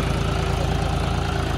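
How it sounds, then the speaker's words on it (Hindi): John Deere 5050D 4x4 tractor with a plough attached, its diesel engine idling in a steady, loud, throbbing low rumble close by, with no voices. "ये है जॉनडियर 50-50D 4x4 ट्रैक्टर और पीछे है प्लाउ"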